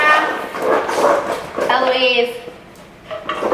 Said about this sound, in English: sorry, that's a dog.